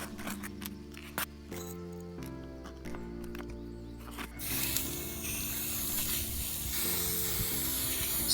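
White spray primer hisses from an aerosol can onto tabletop miniatures in a steady spray that takes over about halfway through, after a stretch of clicks and handling noises.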